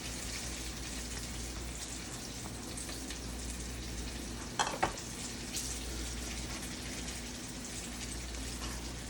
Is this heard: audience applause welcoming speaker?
no